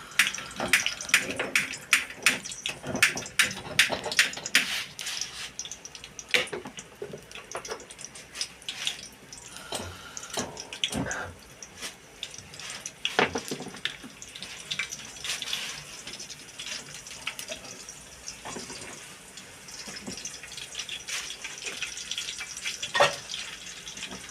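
Tomatoes fry in oil with garlic for a koshari sauce, a fairly quiet sizzle with irregular crackles and pops that continues throughout.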